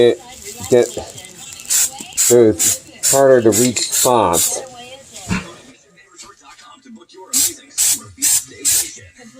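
Short hissing bursts of Kilz primer spray paint pulse repeatedly while painting kitchen cabinets white, alternating with a person talking nearby.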